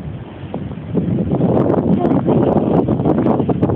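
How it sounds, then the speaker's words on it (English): Wind blowing outdoors in a snowy blizzard buffets the microphone with a low, rough roar that swells and stays strong, with faint rustling and distant voices. "it's a little windy"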